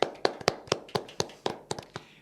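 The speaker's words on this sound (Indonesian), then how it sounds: "Monggo tepuk tangan semuanya." A handful of hand claps from a small gathering greeting a village head, arriving as about ten separate sharp slaps in a quick, loose rhythm close by, with no voices over them.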